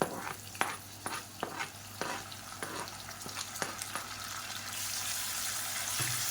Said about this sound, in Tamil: இப்போ எண்ணெயில் நல்லா வதக்கிக்கலாம்